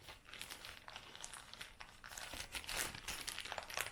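Thin plastic packaging crinkles and crackles continuously while clothing from a Primark and Shein haul is unpacked, close and busy, with a louder crunching burst toward the end.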